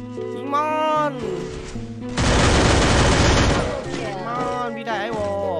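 Video game gunfire, a dense loud burst of rapid shots in the middle, with excited voices talking over game sounds before and after.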